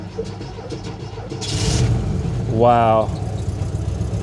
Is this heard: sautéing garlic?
no